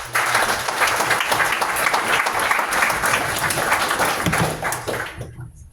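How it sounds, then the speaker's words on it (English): An audience at a tech demo night gives a final round of applause, a loud sustained wash of many clapping hands that fades out quickly near the end. "Let's give one last round of applause."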